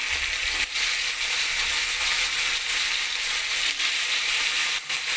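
Small pieces of papaya and potato fry in hot oil over a tempering of nigella seeds and green chili, a loud, steady sizzle that runs unbroken throughout, with a few brief dips.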